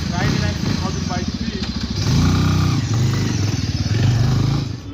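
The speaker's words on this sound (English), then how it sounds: "Let's start the bike." Bajaj Avenger Street 220 motorcycle engine starting and settling into a steady, throbbing idle with some revving, loud and close, with a person talking over it.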